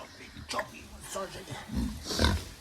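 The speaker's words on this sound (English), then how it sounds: "There's our ferocious boar." A boar grunts on a farm while someone rubs its belly, giving a few low, close snorting grunts that rise near the end, with a person talking in between.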